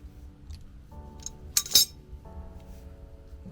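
Metal wrench snugging AN fittings on a newly installed car exhaust, giving a couple of sharp metallic clinks and clicks close by over a low steady background hum.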